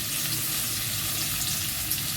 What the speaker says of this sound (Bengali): প্রথমে আমি সামান্য তেল দিলাম, দিয়ে আলুটা ভেজে নেব।